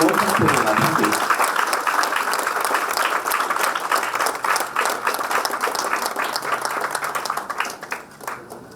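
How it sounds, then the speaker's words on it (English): Sustained audience applause at an award presentation during a World Tourism Day celebration, dense clapping filling the room steadily and tapering slightly near the end, with some voices mixed in. "So give a big round of applause."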